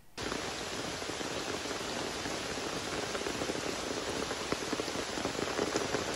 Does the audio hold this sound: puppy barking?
no